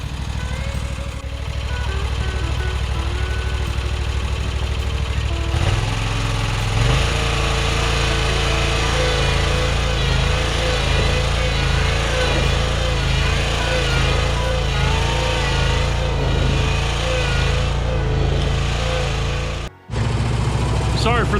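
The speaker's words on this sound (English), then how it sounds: "Sorry for the mower noise in the background" Lawn mower droning steadily in the background of an outdoor yard while leaves are dumped, a continuous engine hum under occasional talk with a brief dropout near the end.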